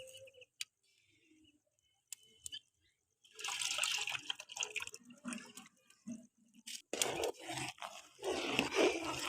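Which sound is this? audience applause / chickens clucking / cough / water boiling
water boiling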